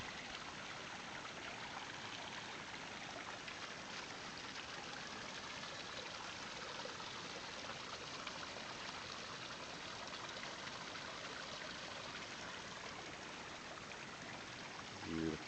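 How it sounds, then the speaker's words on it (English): Gentle trickling water from Mullet Creek near the Hawkesbury River, a steady soft burble that holds evenly throughout with no break, quiet and continuous in an outdoor setting. "Sound of trickling water."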